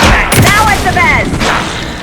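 Gunfire in the video game Alan Wake 2, a loud close burst of shots and booms with ringing, echoing tails and a steady rumble underneath.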